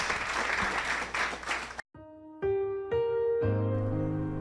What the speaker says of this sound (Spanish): un fuerte aplauso a nuestro Padre Celestial